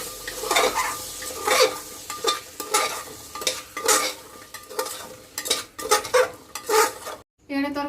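Curry of kabuli chickpeas with potato and lentil dumplings stirred and mixed in a pan, a spoon scraping and knocking the metal in repeated strokes over a soft sizzle, close and fairly loud, with no talk.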